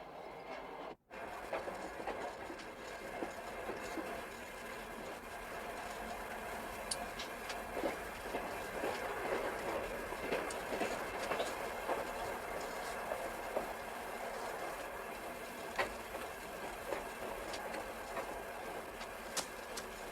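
A train rumbles steadily along the rails, with faint rhythmic clicks and rattles over a constant low drone, fairly quiet and continuous.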